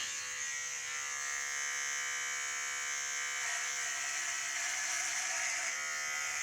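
An electric razor shaves off a full beard in winter, a steady close buzz running without a break and shifting slightly in pitch as the cutter moves across the face.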